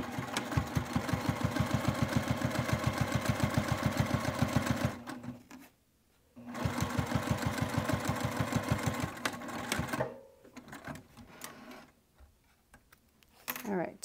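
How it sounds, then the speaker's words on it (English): A sewing machine stitches the last pocket of a wristlet with two long, even runs of rapid rhythmic clatter, separated by a brief pause and followed by quieter handling noises. "so I can sew the last pocket here"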